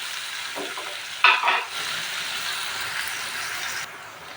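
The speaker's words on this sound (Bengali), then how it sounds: "আমি সামান্য ভেজে নেব পেঁয়াজটা কাঁচা গন্ধ যাওয়া পর্যন্ত" Onion frying in a home kitchen pan for pasta sauce, a steady soft sizzle throughout with a couple of brief scraping stirs near the start, heard alone without talk.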